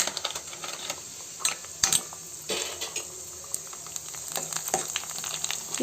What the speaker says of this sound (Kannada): ಫಸ್ಟ್ ಈ ಥರ ಎಲ್ಲ ಪೂರಿಗಳನ್ನ ಸ್ವಲ್ಪ ಚೆನ್ನಾಗಿ ಫ್ರೈ ಮಾಡಿ ಇಟ್ಕೊಂಡ್ಬಿಡೋಣ